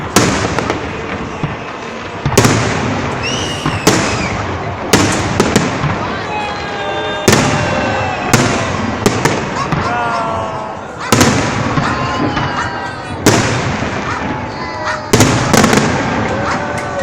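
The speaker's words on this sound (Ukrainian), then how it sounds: "Крутой салют был, да?" Rapid crackling bursts and sharp pops of a fireworks salute display ring out loud and repeated throughout, with whistling rising trails between blasts and people talking over the noise.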